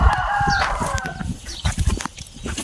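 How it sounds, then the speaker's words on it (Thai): A chicken crows once at the start, somewhat in the background, while close rustling and handling noises from preparing cassava stem cuttings continue through the rest of the clip. "มันไก่"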